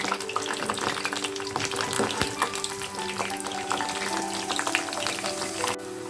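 Cauliflower (gobi) frying in oil in a pan for gobi masala, giving a steady, continuous crackling sizzle at close range with no talking.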